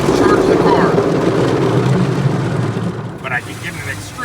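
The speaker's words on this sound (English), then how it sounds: "I could get an extremely loud car wash" An extremely loud automatic car wash roars in a heavy, steady rumble of motors, blowers and spraying water close by, easing slightly near the end as a few brief whistling tones cut through.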